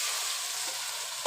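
Soybean chunks coated in egg, dried chili, turmeric and salt hit hot oil, giving a bright, even hiss that swells sharply at the very end, close by with no voices.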